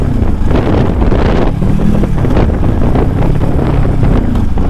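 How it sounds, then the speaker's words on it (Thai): Cold wind roars and buffets the microphone while riding a Kawasaki Ninja 400 motorcycle, a loud, steady rushing blast with a low engine drone beneath it and no talking. "รับ ลมเย็นๆลมหนาวนี่แหละ ของท้ายปีสักหน่อย"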